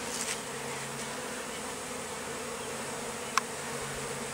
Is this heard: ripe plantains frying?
no